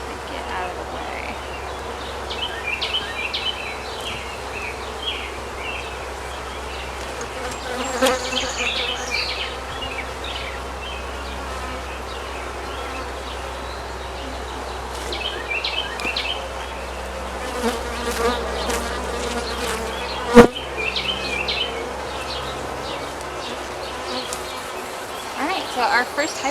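Honeybees buzz in a dense, continuous swarm around three open beehives during a hive inspection, with close passes and the clatter of equipment over a quiet outdoor background.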